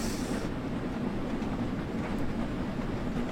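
A train rolls steadily along the rails, giving a close, continuous rumble and rattle at an even level with no talking.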